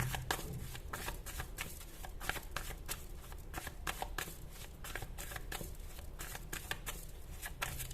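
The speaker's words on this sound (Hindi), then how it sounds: "ये वाला डेक, और फिर हम नॉस्ट्रेडमस के कार्ड्स देखेंगे।" Tarot cards being shuffled in a steady run of quick riffling flicks for the full eight seconds, close and fairly quiet with no talk over it.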